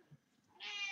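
A cat gives a single drawn-out meow near the end, loud and close, after a brief quiet lull with a faint low sound near the start.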